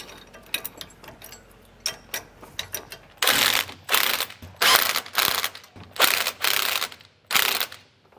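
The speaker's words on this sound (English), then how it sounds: "So I'm gonna just kind of make sure that I evenly tighten as we go, and then we'll get this all snugged down." Ratchet clicking in quick bursts while snugging down the bolts of a Roadmaster Exact Center steering stabilizer bracket on a 2005 Workhorse chassis; quiet faint clicks first, then several loud, close ratcheting strokes separated by short pauses.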